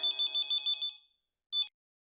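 Phone ringtone signalling an incoming call, a bright warbling electronic melody lasting about a second, then a pause and a brief second burst, clear and close.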